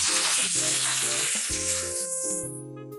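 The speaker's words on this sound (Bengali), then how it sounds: "পাস্তাগুলো ভালোভাবে মিশিয়ে নিচ্ছি।" Boiled pasta stirred through a sizzling frying pan, a steady loud hiss of frying under continuous scraping and stirring that tapers off near the end; no talking.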